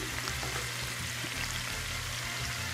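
Pork sizzles and fries steadily in a hot pan for al pastor tacos, a continuous close crackling hiss with no talk over it.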